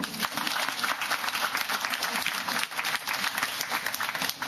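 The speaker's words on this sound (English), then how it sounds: "I think that deserves a round of applause." An audience at a community development celebration claps steadily in a full, even round of applause, dense and continuous, with faint crowd murmur beneath.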